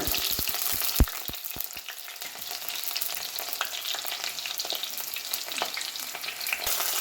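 Fenugreek seeds and finely chopped onion frying in hot oil in a pan for a fish curry, a steady soft sizzle with scattered crackles and a few stirring clicks near the start.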